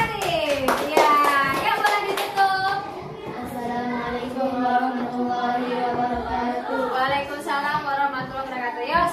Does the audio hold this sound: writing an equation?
no